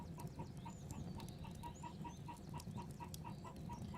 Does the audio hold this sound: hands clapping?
no